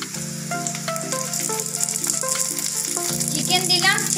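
Chicken pieces frying with browned onions in a pot for home-made chicken tehari, a steady close sizzle with rattling and stirring throughout, brighter crackle rising near the end.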